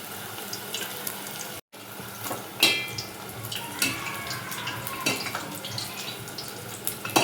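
Sorrel and spinach pakoras deep fry in oil with a continuous bubbling sizzle, dotted with occasional louder pops and crackles close by.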